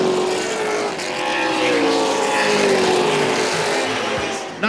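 Pro late model race cars roar through a turn as a pack, a loud, sustained engine drone with shifting pitch as the cars sweep past, with no talk over it.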